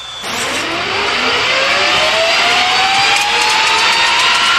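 A Lutz jet funny car makes a drag racing run at the Spring Pro Jet Car Championships: a loud, sustained roar of jet thrust with a steadily rising whine, unbroken from start to finish.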